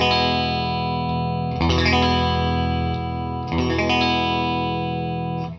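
Fender Custom Shop '63 Jaguar electric guitar playing sustained distorted chords through effects, with two sharp shifts in tone as the pickup switch flicks between series and parallel modes; loud and continuous, no talking.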